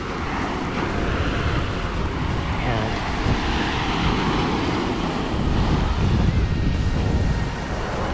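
Pacific Ocean surf at Marshall Beach rolls under constant gusting wind, a loud broadband roar with buffeting across the microphone and no clear breaks.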